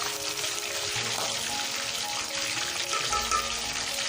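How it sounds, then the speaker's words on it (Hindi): Fish pieces for a masala fish curry fry in hot oil, browning with a steady close sizzle and bubbling crackle that carries on without pause for the whole stretch. "1 बाय 1 सबको ब्राउन करेंगे, फ्राई करेंगे और बर्तन में निकाल देंगे।"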